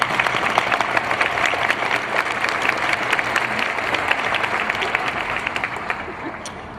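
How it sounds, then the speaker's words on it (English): A large commencement crowd at Emory Law School gives a sustained round of applause, loud and dense clapping filling the whole clip and tapering slightly at the end, with a faint murmur of voices underneath. "Please give them a round of applause."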